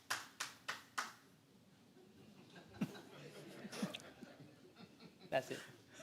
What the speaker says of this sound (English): You got the biggest hands in the room clapping you.